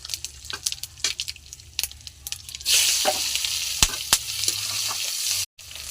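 Onion tipped into a cumin tempering in a hot pan, the sizzle jumping sharply louder and staying as a steady close fry, with scattered clinks of a spoon against the pan before and after.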